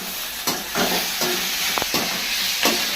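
Onions sautéing in a pan, a loud steady sizzle punctuated by several spaced scrapes of a spatula, close up and with no talking.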